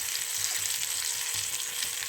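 Sweet potatoes frying in ghee fill the air with a steady, close sizzle, while soft low knocks recur every half second or so as the pan is tossed and the pieces shift. No voices are heard.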